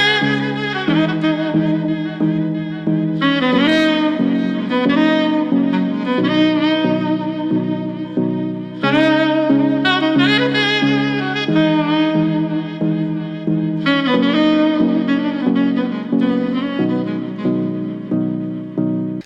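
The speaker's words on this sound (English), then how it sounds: "So now you can see it sounds much more like a normal saxophone" Slowed-down saxophone solo from a song, a lower, mellow melodic line with steady phrases and vibrato, played over backing music with no talking.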